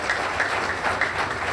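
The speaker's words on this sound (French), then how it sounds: "Applaudissez pour vous-même." An audience claps at a national congress in Benin, a steady, dense wash of applause from a crowd with no voices over it.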